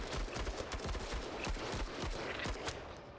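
Rapid salvos of gunfire in the tactical video game MENACE, a dense run of sharp cracks and thuds packed close together, loud and steady throughout with no talking.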